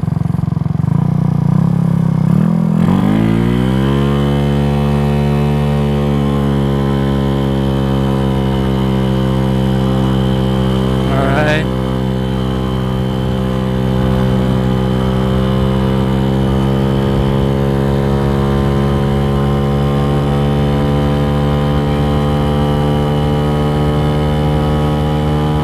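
A Venom X18 motorcycle engine settles into a steady idle after a brief rev at the start, holding a continuous, even drone close to the microphone with no talking.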